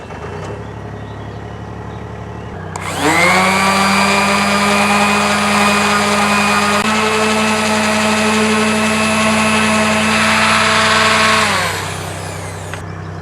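A narrowboat's engine starts up and runs at a steady, loud droning idle with a whining harmonic hum for several seconds, then its pitch drops and it fades back down.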